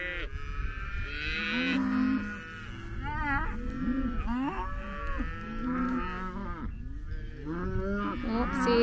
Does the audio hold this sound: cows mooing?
yes